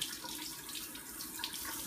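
Cold tap water runs steadily as an aquarium plant is rinsed under it, a close, even splashing stream with no talking.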